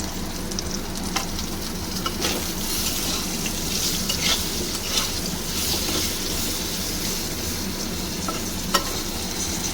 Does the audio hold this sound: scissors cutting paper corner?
no